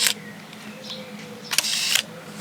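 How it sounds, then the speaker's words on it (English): Leica M8 digital rangefinder camera shutter firing twice, each a loud, crisp mechanical snap-and-whir, the second lasting about half a second, close up against a quiet room. "It's the shutter sound is, I would say, loud. Let's hear it."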